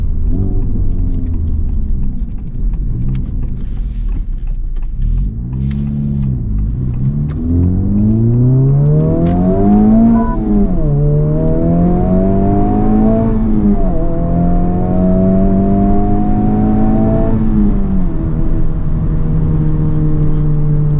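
A 2023 Honda Civic Type R in R mode accelerates hard on a curvy road. The loud engine note climbs through several gears with quick drops at each upshift, sustained and close, with no voices.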